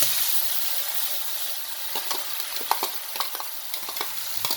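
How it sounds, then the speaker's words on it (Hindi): Tadka of spices frying in hot oil for sarson ka saag, a continuous close sizzle with crackling pops and stirring clinks throughout, no talk. "यहाँ तड़का लग रहा है"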